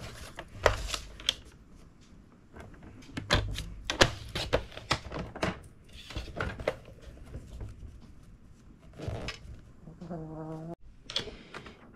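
Paper being cut with scissors for a gingerbread house explosion box, a series of crisp snips and rustles in irregular bursts at close range, with a brief hum near the end.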